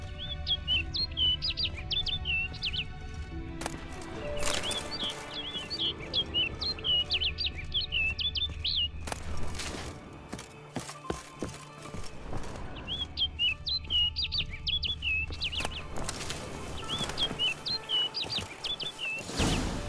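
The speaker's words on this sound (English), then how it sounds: "Looks like the bird's leading me somewhere." Bird chirping in the video game The Witcher 3, repeated bright tweets in short bursts from a single bird, moderately close, over a low ambient game background with a horse's faint hoof sounds.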